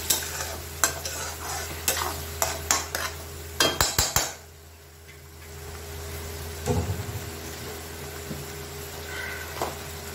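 Tomatoes stirred into masala frying in oil and butter for paneer butter masala: a run of sharp metal utensil clinks and scrapes against the pan, then a quieter stretch of steady sizzle with an occasional later scrape.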